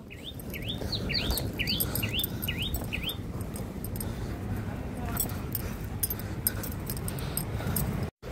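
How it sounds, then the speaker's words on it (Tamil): Sparrows chirp on an island by the sea, a quick run of bright, repeated tweets early on over steady wash of waves and wind, with a brief thump right at the end. "அந்த குருவிகளோட சத்தம் கேட்குதா? குருவிகளோட சத்தம்,"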